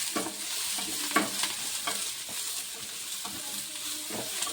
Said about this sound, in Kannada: ಇದು ಒಂದು ಮೆಣಸಿನ್ಕಾಯಿ ಒಂದು ಸ್ವಲ್ಪ ಫ್ರೈ ಆಗ್ಬೇಕ್ರಿ.